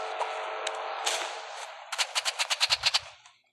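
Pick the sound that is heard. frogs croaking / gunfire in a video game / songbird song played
gunfire in a video game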